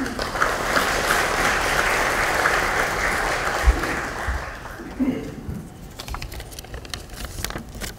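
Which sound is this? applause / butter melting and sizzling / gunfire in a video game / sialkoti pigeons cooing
applause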